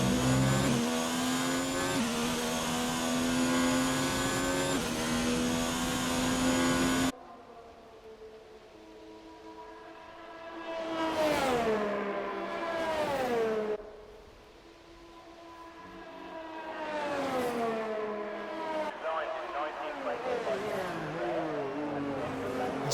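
In the racing game F1 2019, a Formula 1 car screams around the Belgium track, first as a loud, steady high-revving whine, then as quieter engine sweeps rising and falling through gear changes while a commentator talks.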